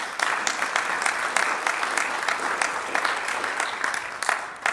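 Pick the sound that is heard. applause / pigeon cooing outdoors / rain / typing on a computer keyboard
applause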